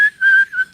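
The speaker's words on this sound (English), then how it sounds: "Anytime I try any accent, turns into a whistle." A person whistles through the gap of a missing tooth, giving a short, loud, steady tone in three quick bursts with no talk around it.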